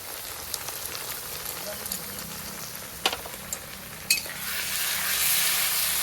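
A paste of green and dried red chilli with onion sautés in a pan for jackfruit biryani, giving a constant crackling sizzle with a few sharp scrapes of the spoon and rising spatter toward the end.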